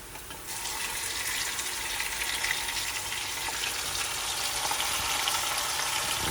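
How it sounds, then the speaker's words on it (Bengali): Marinated mutton drops into a pan of browned onions and fries with a loud, steady, hissing sizzle that starts abruptly and holds constant, with no voices. "এখন আমরা ম্যারিনেটেড করা মাংসগুলো এর মধ্যে অ্যাড করব।"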